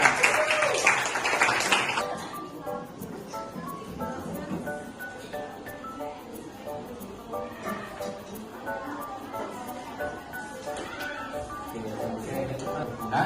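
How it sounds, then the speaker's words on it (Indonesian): Classroom applause during an Indonesian social studies lesson: a burst of dense clapping for about two seconds, then a teacher's voice carries on talking over faint room noise. "Oke, tepuk tangan."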